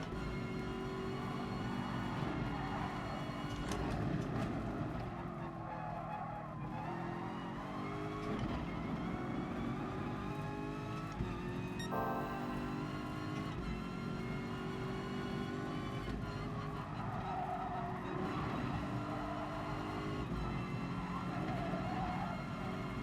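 A Toyota Supra race car in GT Sport snarls through a set of corners, its engine note rising and falling steadily, with a continuous layered drone from the cars.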